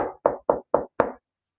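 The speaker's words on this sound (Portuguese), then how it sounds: "Por exemplo, quando eu bato a porta," Five sharp knocks on a door in quick, even succession, close and loud, then silence.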